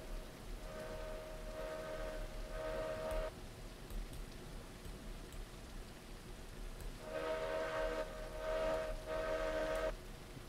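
A steam locomotive whistle sounds in the video game RailRoads Online during rain. There are two long, steady blasts, the second broken into three bursts, over a soft, constant hiss of rain.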